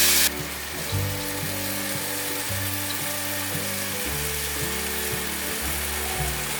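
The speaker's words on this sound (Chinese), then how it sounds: "翻炒至苹果炒出胶质之后就可以了" Grated carrot and apple stir-fried in a pan until the apple turns glossy, giving a soft, continuous sizzle with light scraping, heard under steady background music.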